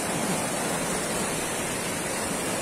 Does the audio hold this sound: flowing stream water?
yes